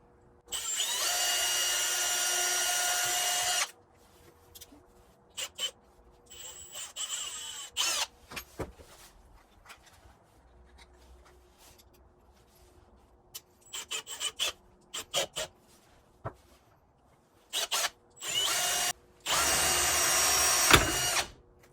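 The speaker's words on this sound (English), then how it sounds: "this is where I'm going to drill my initial hole, and then I'm going to go back in with the hole saw." A power drill bores a pilot hole and then a hole saw cuts through panel on a 2012 Subaru Legacy for a back-up camera, loud harsh grinding bursts separated by quiet pauses and short spurts.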